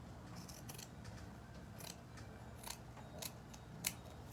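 Scissors cut a strip of burlap-type craft material in quiet, repeated snips, spaced irregularly, close by and alone.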